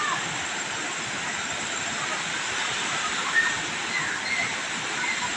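Aliwagwag Falls pours in a steady, dense rush of falling water heard from a hanging bridge, a constant broadband hiss without breaks, moderately loud and unbroken by nearby talk.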